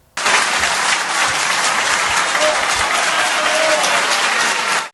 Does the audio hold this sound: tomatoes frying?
no